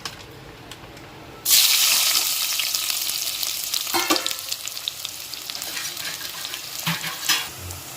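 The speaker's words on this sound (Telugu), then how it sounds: "నూనె కాగుతుంది ఇందులో ఉల్లిపాయలు వేసుకున్నాము" Onions drop into hot oil and hiss loudly at once, then the frying settles into a steady crackling sizzle with a few stirring scrapes, close and without talk.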